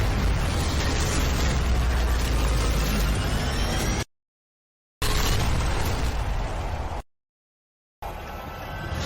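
A traitorous disciple blows himself up in a loud explosion: a dense, roaring blast that fills the whole range, broken by two short silent gaps before the rumble resumes slightly softer.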